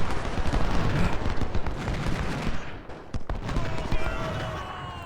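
Massed musket and artillery fire rumbles through a Civil War battle game, a dense, continuous roar of distant volleys with a brief lull and a few sharp cracks near the middle.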